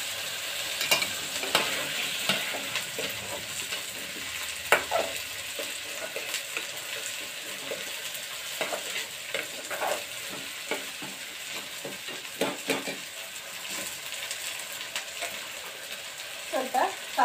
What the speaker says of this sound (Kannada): ಎಣ್ಣೆ ಸ್ವಲ್ಪ ಕಾಯಿಲಿ.